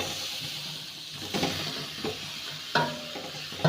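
Tomatoes fry in a pan for an onion-tomato gravy and are stirred, giving a steady sizzling hiss broken by occasional scraping knocks of the spoon against the pan.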